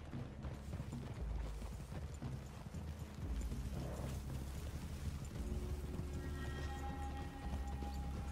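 Faint, muffled horse hoofbeats clop along in Red Dead Redemption 2 under low ambient rumble, with a steady tone appearing near the end.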